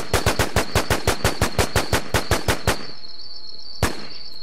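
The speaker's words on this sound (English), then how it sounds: "They're shooting at me, wey." Video game gunfire from The WarZ: a rapid, evenly spaced automatic burst of about fifteen loud shots, a brief pause, then one more isolated shot.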